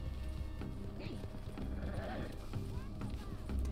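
Horse hooves clopping at a steady riding pace in the video game Red Dead Online, close and continuous beneath a bed of game music and ambience, with a brief whinny-like cry partway through.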